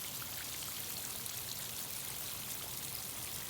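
Water pours and flows down a steep, eroding hillside of collapsing soil, a steady broadband rush with a trickling, splashing texture that holds constant throughout, with no talk over it.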